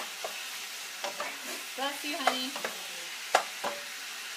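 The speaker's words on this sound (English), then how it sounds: "let's give our chicken a stir because it's starting to get, you can see it starting to cook" Chicken pieces frying in a pan with garlic, quietly sizzling while a utensil stirs and scrapes in a few brief bursts; a voice speaks briefly nearby.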